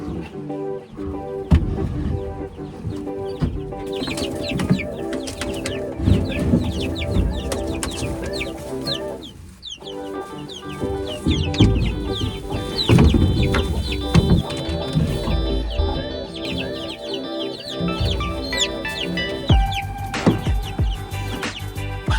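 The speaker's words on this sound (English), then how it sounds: "Then I think we are good to move the chicks over." Chicks near a mobile chicken coop cluck and chirp busily and almost without pause, close by, over a fairly dense background.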